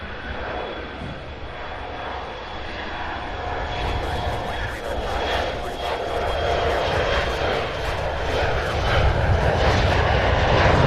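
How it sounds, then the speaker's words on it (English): A United airliner takes off at CVG airport in Cincinnati, its engine roar building steadily from a distant rumble to a louder, broad rush. "The United flight finally taking off."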